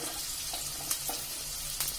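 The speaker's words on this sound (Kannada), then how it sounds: "ಎಣ್ಣೆ ಕಾದಿದೆ, ಈರುಳ್ಳಿ ಹಾಕ್ಕೊಳ್ಳೋಣ." Onions dropped into hot oil for suvarnagedde (elephant foot yam) palya, a steady close sizzle and crackle with occasional small pops and stirring scrapes.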